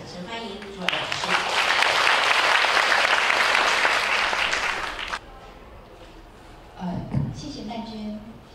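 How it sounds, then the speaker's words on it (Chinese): An audience bursts into steady, loud applause welcoming a speaker to the stage at a talk in Taipei, the clapping sustained for about four seconds before breaking off, followed by someone speaking briefly. "我们热烈掌声欢迎朱儿老师"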